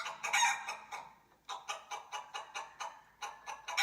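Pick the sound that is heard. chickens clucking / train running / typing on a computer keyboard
chickens clucking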